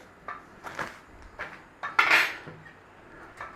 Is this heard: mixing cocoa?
yes